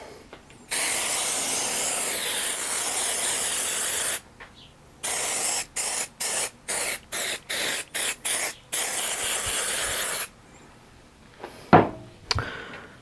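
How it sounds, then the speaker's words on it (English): A long steady hiss of spray over an epoxy resin piece, then a quick run of short spray bursts, followed by a few sharp clicks and clatter close by. "And I'm gonna go ahead and spray this again."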